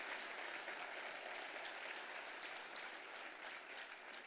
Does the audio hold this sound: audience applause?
yes